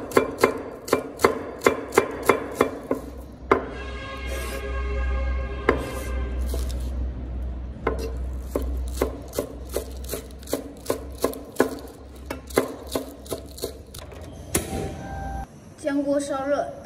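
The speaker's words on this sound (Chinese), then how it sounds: "葱叶分开切成碎末" A knife chops scallion greens into fine bits on a cutting board in a steady run of sharp, close thuds, pauses briefly midway, then resumes at a quick pace, with a voice narrating faintly in the background.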